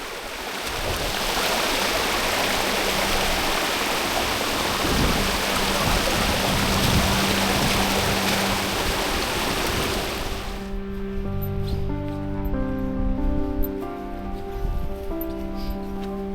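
A river flows into a lake in the Finnmark highlands, giving a loud, steady broadband rush of water that drops away partway through, leaving quieter sound with faint tonal notes.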